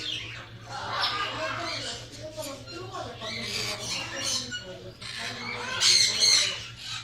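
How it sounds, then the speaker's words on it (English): A small parrot squawks and chirps in a pet store aviary, with repeated harsh calls near the microphone and a louder burst toward the end, over a steady electrical hum and background chatter. "It's like a miniature parrot, it looks like."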